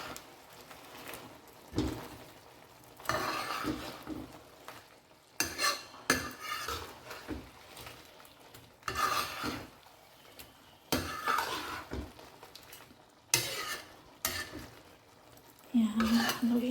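Garlic butter shrimp gets stirred in a pan, a utensil scraping and clinking against metal in repeated bursts over a soft sizzle, close and fairly quiet.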